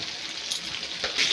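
Spices with turmeric and salt sautéing in a pan, a soft, steady sizzling hiss that swells briefly a couple of times.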